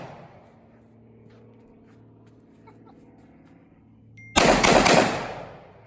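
AK47 rifle fire striking a Tannerite target outdoors: faint, quiet background hum, then a sudden loud burst of rapid shots and a heavy blast that rings out and fades.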